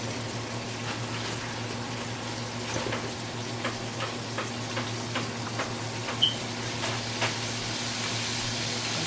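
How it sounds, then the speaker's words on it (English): Chicken wings frying in hot oil give a steady, even sizzle with faint crackles and a few soft pops, heard alone without talk. "Okay, it's time to put the chicken in the oil now."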